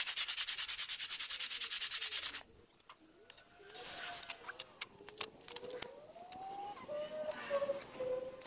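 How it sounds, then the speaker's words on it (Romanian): A power sander sanding wood whirs loudly for about two seconds, then stops, leaving scattered clicks, rubbing and faint squeaky tones. "un pic cu șlefuitorul aici."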